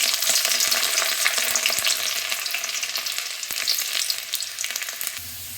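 Chopped garlic hitting hot oil with whole spices, giving a loud, steady sizzle and crackle with a few stirring scrapes throughout, no talking.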